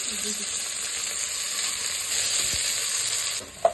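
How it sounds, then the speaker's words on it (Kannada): Finely chopped onions fry in oil with spices, making a steady, close sizzling hiss with a soft stir or two and a small metallic tap right at the end, no one speaking. "ಈರುಳ್ಳಿ ಇವಾಗ ಫ್ರೈ ಆಗ್ತಾ ಇದೆ."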